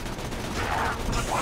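Rapid gunfire from the shooter game Borderlands 2, a dense burst of quick shots packed into a moment of steady noise.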